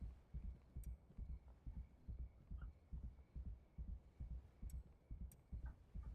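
A heartbeat status effect in the video game Schedule I thumps in a slow, regular double-beat pattern, low and muffled, over a quiet hum with a few faint ticks.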